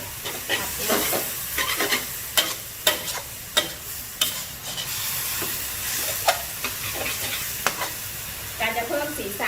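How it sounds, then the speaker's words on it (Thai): Glass noodles and cabbage stir-fried in a pan, with a loud continuous sizzle broken by repeated sharp scrapes and clacks of the spatula at an irregular, busy pace. "ก็ใส่วุ้นเส้นลงไปเลยค่ะ"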